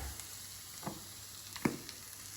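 Garlic hitting a hot pan with pork belly nearby, a soft steady sizzle with a few sharp crackles and a brief louder spit as it lands.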